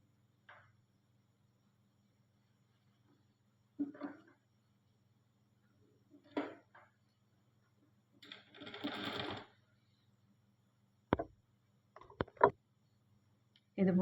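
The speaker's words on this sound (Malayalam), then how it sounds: "ഇതുപോലെ സൈഡിലേക്ക് ഫുള്ളായിട്ടൊന്ന് സ്റ്റിച്ച് ചെയ്ത് കൊടുക്കണം നെക്കിൻ്റെ." A sewing machine stitches the neck of a garment in short separate bursts of whirring, several runs spaced by silences with one longer burst in the middle, close and quiet against a faint low hum.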